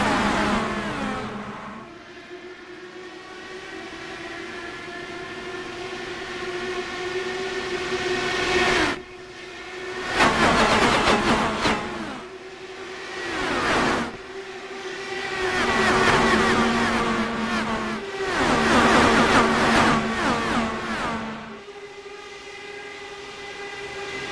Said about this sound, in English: Let's listen to the rumble of the Dallara IR18s here at the Tricky Triangle.